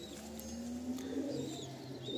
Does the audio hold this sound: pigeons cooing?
yes